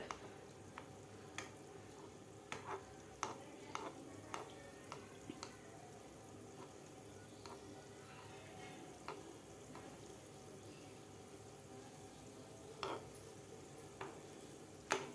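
Milk powder gulab jamun fry gently in oil while oil is spooned over them, making a soft continuous bubbling sizzle with scattered sharp pops and crackles throughout.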